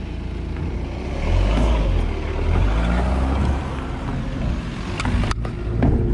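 A small river ferry carries a cyclist across the water, its engine giving a steady low rumble and drone throughout, with some wind buffeting and a few light knocks near the end.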